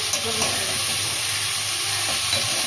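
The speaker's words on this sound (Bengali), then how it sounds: "এটা একটু ভাজা ভাজা হবে তারপর সমস্ত মশলা দেওয়া হবে" A steady sizzle of sweet mixture frying in a hot pan before spices are added, with a bright continuous hiss and occasional stirring clinks, no voices.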